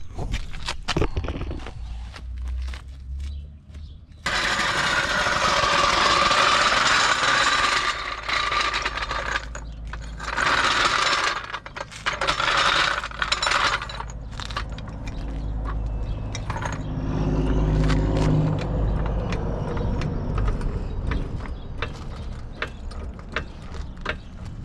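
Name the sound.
car jack being operated under a 1995 Dodge Avenger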